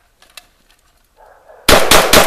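A Tri Star 12 gauge gas-operated shotgun fired outdoors: after faint rustling and a quiet hum, a sudden very loud blast bursts out, followed by sharp repeated cracks in quick succession.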